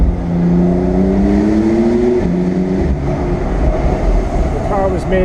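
A 2017 Porsche 911 Carrera 4S Cabriolet drives through a tunnel, its engine note rising steadily in pitch as it pulls, loud and close, with a brief shift near the end.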